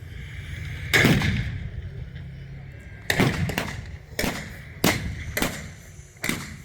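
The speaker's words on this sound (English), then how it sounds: "The T-54, boom, fires back." A T-54 tank fires its cannon repeatedly in a video game set in a Qatar vs Iraq battle, five loud booming blasts spaced a second or two apart, each with a rumbling tail over background battle noise.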